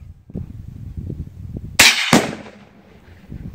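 A .22 rifle fired at a sensitive Tannerite target outdoors produces two sharp, loud cracks in quick succession, with a short decaying tail, over a low rumbling background.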